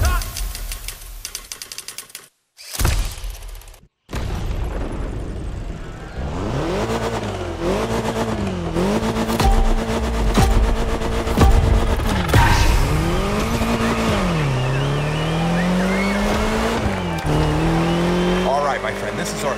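A car in The Crew Motorfest video game revs and accelerates, with long rising and falling engine tones and tire squeal, loud and continuous after a brief break of near silence.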